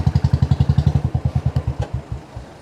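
A motorcycle engine thumps in a fast, even pulse close by as the bike rides along a road, then the beat eases off and loosens near the end as it slows.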